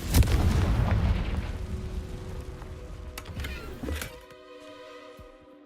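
Confringo blasting spell from Hogwarts Legacy goes off as one loud booming blast with a crackling burst, followed by a second smaller bang and a fading rumble and ringing tail.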